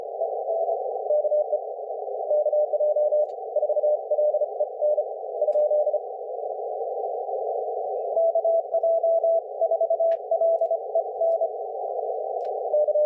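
An amateur radio CW sidetone beeps in Morse code, a steady mid-pitched tone keyed in rapid dots and dashes that run on continuously with no voices.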